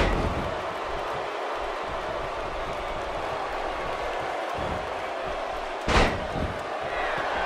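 Professional wrestling tag match with a wrestler slammed onto the ring mat, a sharp thud standing out over a continuous crowd murmur, with a second smaller impact shortly after.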